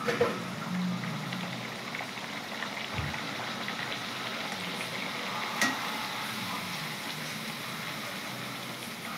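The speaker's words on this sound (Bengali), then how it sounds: "একটা একটা করে লুচি এবারে সব ভেজে নিচ্ছি" Naan puri frying one by one in hot oil, giving a soft, steady sizzling hiss that runs unbroken through the whole stretch with no voices.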